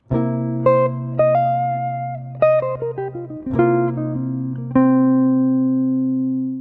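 A clean electric guitar plays a bluesy single-note phrase with bends and slides over a dominant chord, notes ringing over a sustained low chord tone.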